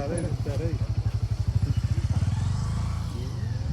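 A motorbike engine chugs nearby in a rapid, even pulse, then rumbles on as it settles, with a voice heard briefly at the start.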